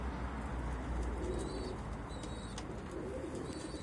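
Pigeons outdoors, soft cooing and a few brief chirps over a constant low rumble of wind or traffic, the birds fairly faint and distant with no talking.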